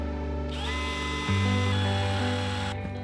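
A power drill whines steadily at close range while drilling holes through a metal template into custom-milled cedar, its motor pitch shifting lower partway through as it bites into the wood, then cutting off abruptly.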